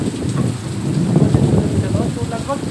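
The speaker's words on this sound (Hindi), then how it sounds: "देखो बाहर देखो इतनी ज़ोर से बारिश लगी है।" Heavy rain pours down outdoors in the hills of Uttarakhand, a steady dense hiss with low rumble underneath and a few faint higher tones near the end.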